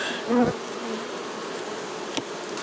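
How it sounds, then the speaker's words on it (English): Defensive honeybees buzz close by at an open hive, one passing loudly near the start, with a faint insect drone continuing around it. "there's a few defensive bees on the go here"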